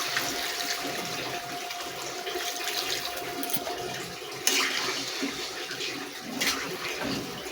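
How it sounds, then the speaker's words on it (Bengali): Water poured into a pot of chicken curry, a continuous rushing, splashing stream close by at steady volume, with a couple of brief clanks partway through. "এবার আমি পরিমাণ মতন হচ্ছে জল দিয়ে দেবো।"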